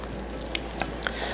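A pot of lasagna soup bubbles and sizzles steadily at close range, with a few sharper pops breaking through the constant hiss.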